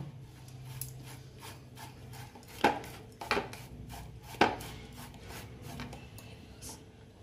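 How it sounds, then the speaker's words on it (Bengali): Peeled boiled potato and egg being grated by hand in a home kitchen, a quiet series of soft rasping strokes with a few sharper scrapes and knocks against the grater, close and otherwise calm. "এবারে এটাকে আমি গ্রেট করে নেব"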